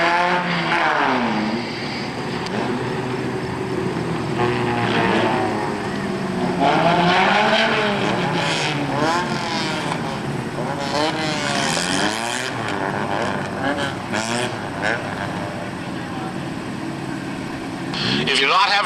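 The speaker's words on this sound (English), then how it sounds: "Roger LeBlanc will take the auto lap around the speedway" A Honda race car engine on a victory lap around a speedway, a steady droning engine note that rises and falls as the car passes, heard under continuous public-address announcing.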